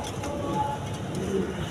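A pigeon offered for sale coos softly at a distance, a low murmuring call over a steady background hum, with no voices.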